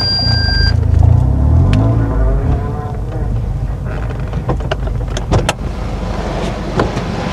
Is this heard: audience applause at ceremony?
no